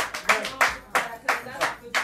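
A café-concert audience claps at the launch of the Treich'Ngowa festival, with a string of separate, fairly loud bursts about every third of a second that rise and fall, sounding like a small group applauding together.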